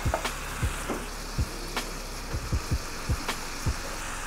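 Dry white wine sizzles in a pan over high heat, a frying hiss punctuated by a series of low thumps and short bursts, close and moderately loud.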